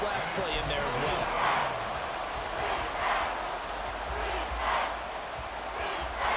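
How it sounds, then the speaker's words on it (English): Football stadium crowd at a Panthers versus Commanders game, a broad roaring cheer that swells and surges in waves, with a commentator talking over it. "Well, this crowd into it now."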